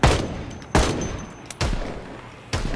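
Gunfire in the zombie survival game Project Zomboid: four loud, sharp shots spaced about a second apart, each with a short decaying tail, close and without talk.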